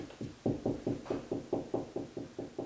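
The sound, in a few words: knocking on ceiling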